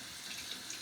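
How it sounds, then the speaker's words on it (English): Water runs steadily from a tap into a sink, a soft, even hiss with slight splashing, close by and without voices. "Now turn off the water and turn on the hot water."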